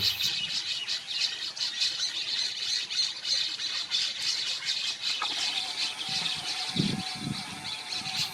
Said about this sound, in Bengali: মাঝে মাঝে কিন্তু ওদের মধ্যে বাসা নিয়ে ঝগড়া চলছে